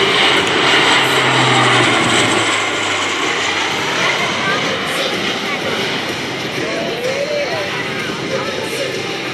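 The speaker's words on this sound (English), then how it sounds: "From the right, ladies and gentlemen, the Lockheed Martin AC-130 Ghostrider gunship." A Lockheed Martin AC-130J Ghostrider gunship with four Rolls-Royce AE 2100 turboprops passes at an airshow in West Virginia, giving a loud, sustained propeller drone that slowly fades, with crowd noise and talk underneath.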